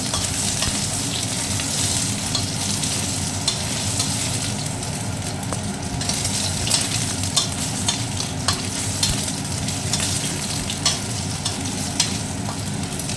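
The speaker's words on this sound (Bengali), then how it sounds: "এবার আমি পনিরগুলো অল্প করে তেলের মধ্যে ছেড়ে দিয়ে হালকাভাবে ভেজে নিচ্ছি।" Paneer pieces frying in hot oil in a wok, an even, continuous sizzle with frequent crackles and pops and occasional stirring noises, sustained and close for over thirteen seconds.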